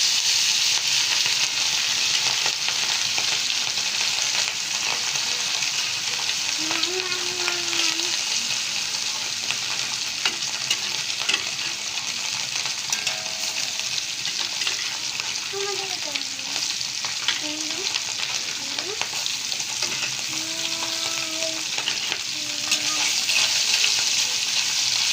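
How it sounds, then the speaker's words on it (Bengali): Small puti fish fry in hot oil in a pan, giving a steady, close, continuous sizzle with light crackling and occasional stirring clinks throughout. "আমি একটা পাত্রে তেল ঢেলে নিয়েছি, তেলটা গরম হয়ে গেছে। এখন আমি মাছগুলো দিয়ে দিব।"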